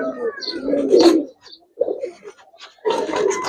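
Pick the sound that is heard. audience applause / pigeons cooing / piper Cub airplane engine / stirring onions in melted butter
pigeons cooing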